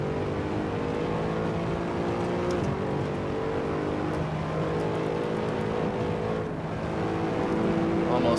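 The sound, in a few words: Mercedes SLS AMG car engine on track in the video game Assetto Corsa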